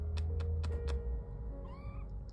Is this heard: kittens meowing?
yes